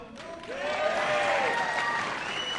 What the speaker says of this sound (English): You applaud if you like it.